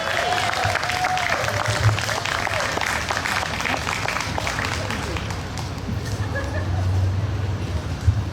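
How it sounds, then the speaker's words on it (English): Audience applause at a women's rally in Wilmington, a steady wash of many hands clapping at moderate distance that carries on for the whole stretch without a clear end. "Let's give her a round of applause"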